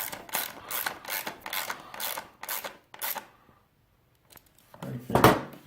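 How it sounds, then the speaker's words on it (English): Metallic ratcheting and scraping while the skid plate of a PST engine jacket is tightened, a run of rhythmic clicks that pauses and then returns with a louder rasping burst, close up. "Then you just tighten up the skid plate."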